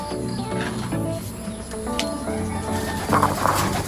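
Pigeons in a breeder loft coo in low, layered, repeating calls, with several birds overlapping nearby and a brief flutter near the end.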